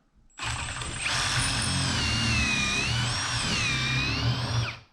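Power drill bores a pocket hole through wood held in a Kreg jig, a loud continuous whine lasting several seconds with slight shifts in pitch, close by and with no talking.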